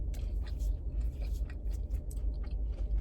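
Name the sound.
crunchy Raising Cane's food being chewed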